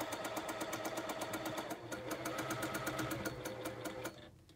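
A sewing machine stitches in a fast, steady mechanical rhythm of close, even clicks, stopping near the end after running over a pin while quilting a feather leaf block.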